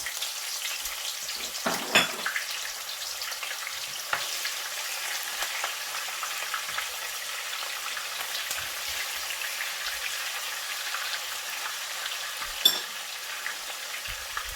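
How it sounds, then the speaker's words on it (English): Onions frying in a pot for Nigerian stockfish and merluzza stew, a steady soft crackling sizzle running throughout with a few louder pops and scrapes near the start and end, close and without talk. "I'm adding my onions"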